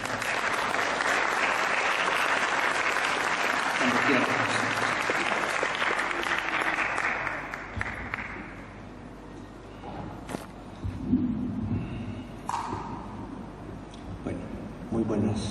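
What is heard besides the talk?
audience applause welcoming the speaker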